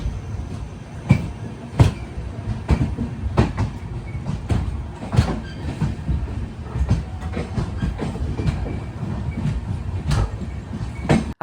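An express train in motion near Ezhimala, heard from on board or close by: a loud continuous rumble with sharp clickety-clack rail-joint beats recurring every second or so.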